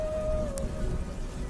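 Heavy rain pours down in a steady, dense hiss that fills the whole stretch, with a faint brief tone and a short higher splash partway through, and no voices.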